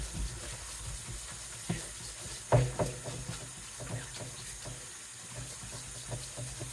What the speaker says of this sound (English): We're gonna rinse this out a little more